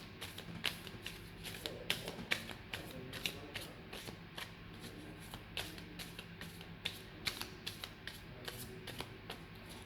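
Deck of playing cards shuffled over and over close up, a steady run of crisp riffling flutters and soft taps with no talk.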